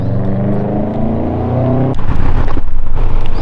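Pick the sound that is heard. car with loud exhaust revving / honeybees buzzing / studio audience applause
car with loud exhaust revving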